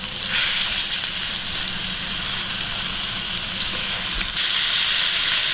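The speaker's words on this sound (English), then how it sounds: "When you're laying fish into a hot oil pan, John, you need to make sure you lay it away from you." Snapper fillets fry in a hot oil pan with a loud, dense, continuous sizzle and crackle heard up close, with no one talking.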